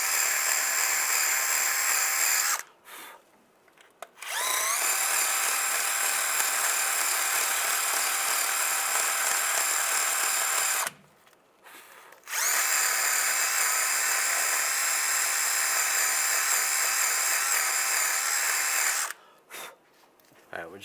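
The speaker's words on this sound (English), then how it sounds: "Just going to use a wire brush, just clean this up a little bit." Power-driven wire brush cleaning front brake parts on a 1999-2005 Volkswagen Jetta: a loud, steady high whine with scraping grit, running in three long bursts separated by brief pauses.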